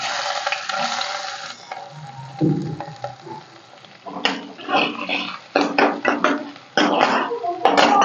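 Onions go into hot oil for a pumpkin kofta curry, with sizzling frying and stirring scrapes in a home kitchen, interrupted by clattering bursts of pan and spoon noise, fairly close and moderately loud.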